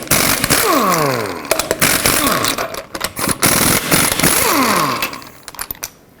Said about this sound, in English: remove all 8 of your lug nuts.